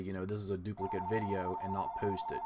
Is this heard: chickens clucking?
no